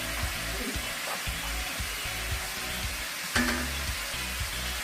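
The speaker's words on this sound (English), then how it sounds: "Mushrooms are browning down nicely. I'm gonna give this another stir again." Mushrooms fry in a pan for a beef Wellington, a steady close sizzle with occasional scraping stirs and one sharper clatter midway, no talking.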